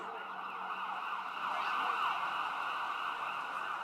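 A siren wails steadily from an emergency vehicle, fairly loud and close, its pitch sweeping slightly as it passes, with a low traffic rumble beneath.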